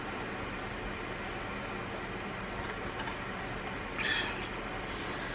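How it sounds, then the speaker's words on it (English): Electric fan running in a room on a hot day, giving a steady, faint broadband whoosh with no change in level, plus a brief slightly louder rustle near the end and no talk. "Excuse the noise of the fan."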